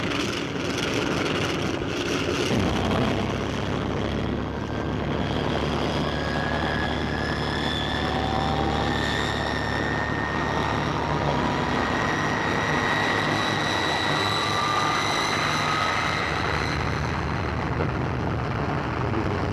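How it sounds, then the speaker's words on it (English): Loud, steady engine roar of a vintage airliner preparing for takeoff, a continuous drone with rising whining tones throughout, no talk. "We're about to take off now."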